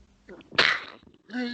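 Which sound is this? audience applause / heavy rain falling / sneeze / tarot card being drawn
sneeze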